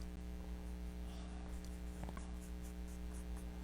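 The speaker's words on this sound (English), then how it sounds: "So I'm sketching with pencil." A pencil sketches on paper while a cartoon figure is drawn, giving soft, faint scratchy strokes over a steady electrical hum.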